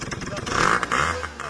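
A scooter engine buzzes close by, revving up and down under loud overlapping talk in a busy indoor space.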